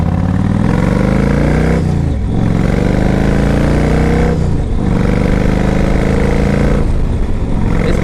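A 2005 Yamaha Road Star 1700cc cruiser motorcycle being ridden, its big engine droning loudly and steadily, with rising pitch sweeps as it accelerates through the gears and brief dips at each shift.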